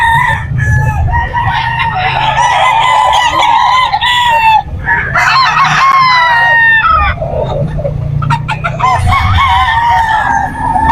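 Palawan Gold roosters and chickens at a pet market crow loudly and cluck close by, long overlapping crows rising over a steady din of fowl, with a faint voice now and then.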